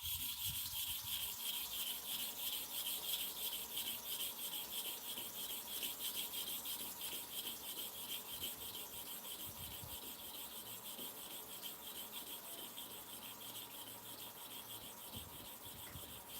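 A clipper blade is rubbed back and forth on a sharpening stone, giving a continuous close gritty scraping with a steady repetitive rhythm throughout.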